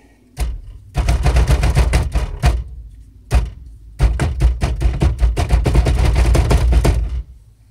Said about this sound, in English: So now you just kind of bang it.